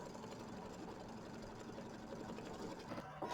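Sewing machine satin stitching letters on a mini quilt, a steady fast mechanical whir and rattle running continuously at close range with no talk.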